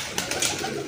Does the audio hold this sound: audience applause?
no